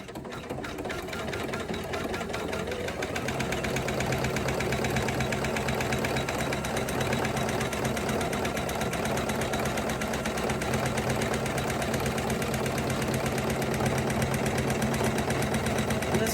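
A Janome 500e embroidery machine stitches a fabric bowl, a fast, steady whirring needle rhythm that runs continuously and close throughout.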